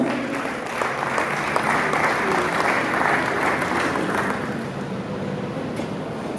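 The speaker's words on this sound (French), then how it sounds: "sous vos applaudissements" Audience applause at a Kinshasa festival of sounds session, a steady dense wash of clapping that holds fairly loud and even throughout.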